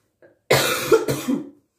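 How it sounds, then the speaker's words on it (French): A single close, harsh cough followed by a second shorter cough, after a brief faint breath. "Comme vous pouvez le voir, je tousse encore un peu."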